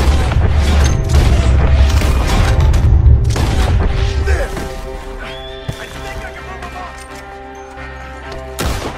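A horse neighs loudly amid booming impacts and hoofbeats in Red Dead Redemption 2, followed by quieter, sparser rumbling and a few sharp hits.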